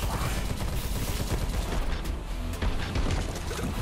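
Shotgun blasts in the twin-stick shooter Tesla Force blend into continuous, loud, dense gunfire and impact noise with little pause, like a busy firefight.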